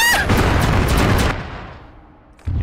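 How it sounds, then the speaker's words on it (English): In the Arma 3 video game, a heavy burst of gunfire and booming impacts fills the first second, then decays into a fading echo before another sharp blast cuts in. "I'm hearing a lot of gunfire over there"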